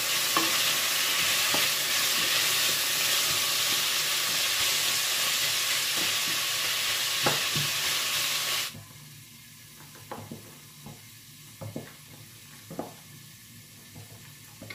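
Garlic frying in a pan for pork menudo gives a loud, steady hiss and sizzle with occasional scraping stirs, then drops abruptly to a quieter bubbling simmer with scattered clinks.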